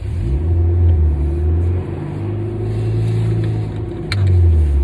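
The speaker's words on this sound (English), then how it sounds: "Will it rev?" An old car that has not been driven in 12 years revs its engine nearby in several loud, rising surges. The revs drop back to a lower hum between pushes.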